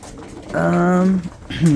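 Pigeons in a breeding loft cooing up close, one drawn-out throaty coo followed by the start of another.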